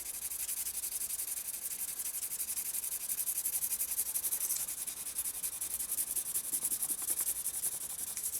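A soft 6B graphite pencil shades across paper in a continuous close scratchy rubbing, with rhythmic back-and-forth strokes and no talking.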